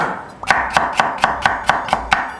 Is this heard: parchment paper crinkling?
no